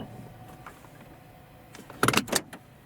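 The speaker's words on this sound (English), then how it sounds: "And only now when I release the parking brake, the car starts moving." A car's electric parking brake releases with a short burst of clicks and a brief whirring motor near the end, after a quiet, faint cabin hum.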